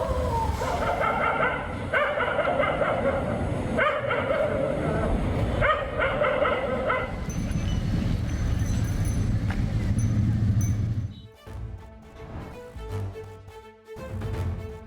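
Stray dogs bark at a hospital in a series of repeated, fairly loud barks over a busy background, followed by quieter, sparser sounds near the end.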